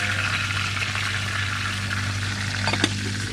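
Fish frying in a home kitchen pan gives a steady, dense sizzle of hissing oil that runs unbroken throughout, close and fairly loud, with one brief sharper crackle near the end and no talking.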